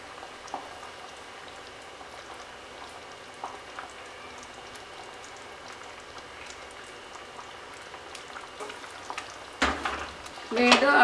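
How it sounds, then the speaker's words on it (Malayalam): Masala paste for a Kerala-style sardine and mango curry bubbling in a pan, a soft steady simmering hiss throughout, with a louder clatter and sizzle near the end as sardines go in. "അരപ്പ് ഇവിടെ തിളച്ച് വന്നിട്ടുണ്ട് നമുക്ക് ഇതിനകത്തേക്ക് മത്തി ചേർത്ത് കൊടുക്കാം"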